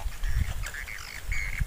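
Duck-like quacking and squawking bird calls near a small ditch during a fishing outing, a few short nasal honks in succession over quiet outdoor background.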